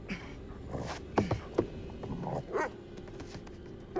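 A dog in The Devil in Me video game barks and yips in several short, sharp bursts over a low ambient background, with whimpering tones between the barks.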